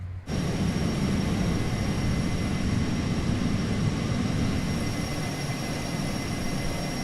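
Steady, droning jet engine hum of a Learjet 35 in Microsoft Flight Simulator, a continuous even roar with a faint high whine, heard alone without speech.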